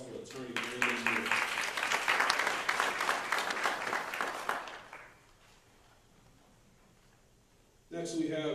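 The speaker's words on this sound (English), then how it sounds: "Please give a round of applause for Attorney Neal." An audience applauds a guest attorney at a civics event, dense clapping that swells for about five seconds and then fades out, with a voice speaking over the opening and again at the end.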